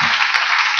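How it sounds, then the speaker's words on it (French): Church congregation clapping in praise, a loud, dense burst of many hands applauding together, steady throughout the short moment with no speech over it. "Applaudissons pour le Seigneur Jésus."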